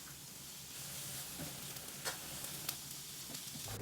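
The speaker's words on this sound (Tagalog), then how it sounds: "nag-start na rin ako maggisa ng sibuyas at" Onion and garlic sauté in rendered pork fat for ginisang labanos, a steady close sizzle with a few faint clinks of a utensil stirring the pan.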